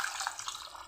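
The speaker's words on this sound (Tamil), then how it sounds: "இப்போ தேவையான தண்ணியை ஊற்றிக்கலாம்." Water is poured over lentils in a pressure cooker for drumstick sambar, a soft, faint, continuous splashing trickle lasting under a second with no talk.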